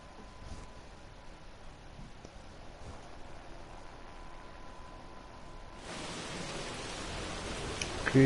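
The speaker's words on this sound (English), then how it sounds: "And it's still raining." Steady rain falls during a GP2 race weekend at the Malaysian Grand Prix, a constant hiss of broadband noise that swells noticeably louder for the last couple of seconds.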